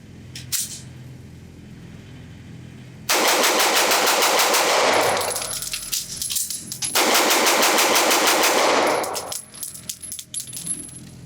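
A Walther PDP F Series pistol fires two long, loud strings of rapid shots on a shooting range, with brief pauses and metallic clatter between the bursts.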